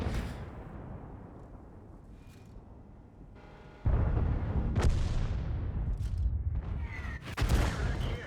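Artillery fire in a tank video game, with a sudden loud boom partway through that sets off a heavy rumble and is followed by further blasts.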